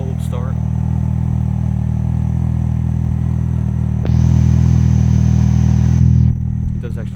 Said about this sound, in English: Did you guys hear the exhaust again on that cold start?